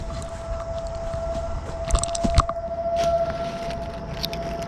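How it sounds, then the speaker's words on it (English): A 12 o'clock civil defense siren holds a long, steady tone in the background, faint and distant, while a few small clicks and handling noises from crimping fishing swimbait tackle sound close by. "pardon the 12 o'clock siren"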